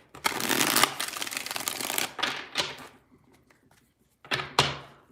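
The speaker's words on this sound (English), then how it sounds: "2 more shuffles here." A deck of tarot cards is shuffled by hand during a mini reading: a long riffling burst, a few sharper slaps and taps, a pause, then two more quick snaps of cards, close and crisp.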